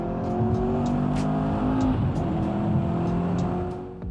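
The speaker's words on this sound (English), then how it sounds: "The crackle on the exhaust, the turbocharger whines, it's absolutely insane." A 1000 hp twin-turbo Audi R8 engine roars steadily close by, with a high turbo whine riding over the exhaust and faint crackles flickering through.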